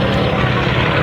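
A propeller airplane passes low over an airshow crowd, its engine drone loud, steady and close across the whole moment.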